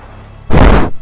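A suicide bomber's blast in the video game Garry's Mod: after half a second of quiet background, a single loud, broadband explosion bursts in close and booms for about half a second before cutting off.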